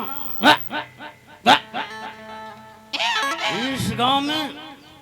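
A dog barks in short bursts several times in a village setting, with loud voices talking and shouting over and after the barks.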